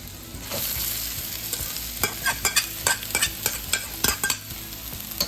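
Rice for chicken fried rice stir-fries in a hot pan: a steady loud sizzle, then from about two seconds a quick run of sharp, rhythmic scraping and tossing strokes against the metal, close and with no talking.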